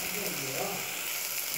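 Mushrooms frying in a pan with turmeric and salt, village-style mushroom fry, giving a soft steady sizzle with faint stirring throughout the short moment, a voice talking over it.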